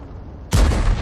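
One tank cannon shot from World of Tanks lands abruptly after a low murmuring background, a loud, close blast that stays full and booming to the end of the short clip.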